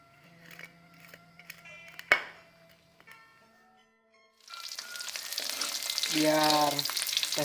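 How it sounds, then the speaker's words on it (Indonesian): Black petai (stink beans) frying in hot oil for sambal balado, a steady close sizzle that builds after a few seconds of quieter kitchen clatter and a single sharp knock. "Goreng ketika sedikit menguning-uning ya."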